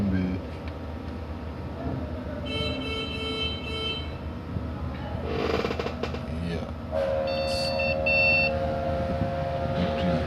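Bench setup for repairing an RTX 3080 Gaming OC graphics card that is not detected gives off thin, high electronic beeps in two short bursts over a constant background hum, while someone talks briefly.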